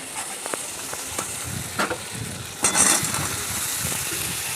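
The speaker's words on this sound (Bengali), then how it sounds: "পটল আর আলুগুলো ভেজে নিচ্ছি হালকা করে।" Pointed gourd and potato pieces fry lightly in shrimp oil, giving a steady soft sizzle at close range with occasional sharp taps and stirring clatters from the pan.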